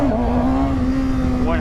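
Sport motorcycle, a Kawasaki Ninja 636 or Triumph Daytona 675R with traction control on, pulling away with a clutch-up launch in first gear; a steady, loud engine drone holds an even pitch, with a rising rev swell near the end.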